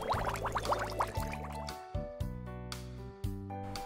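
Thick chocolate syrup poured into a cup, with glugging drips at first, then several separate splashy plops in an uneven rhythm, close by.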